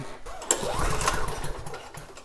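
A Snapper lawn mower engine with a faulty fuel tank cranks over and sputters as it tries to start, a loud close mechanical whir with uneven rising and falling bursts.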